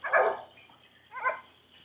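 Coonhound pups bark at a raccoon they have treed: two sharp, close barks about a second apart, with a quiet pause between them.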